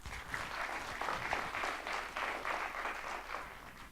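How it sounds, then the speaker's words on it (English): Conference audience applauding, a dense, even wash of clapping from a seated crowd, fairly soft and steady throughout with no voices on top. "let's give that a round of applause"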